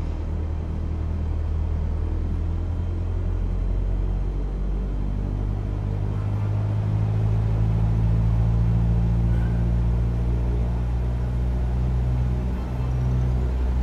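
Steady, loud engine drone of a Cessna 172 throttled to 1800 RPM in Microsoft Flight Simulator 2020, a continuous rumbling hum that rises slightly midway and holds without speech.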